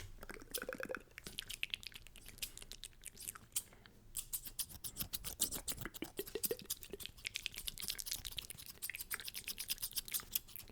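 Rapid, crisp snipping of scissors close to the microphone, many quick cuts in an irregular run with soft rustling between, in a quiet whisper-style setting.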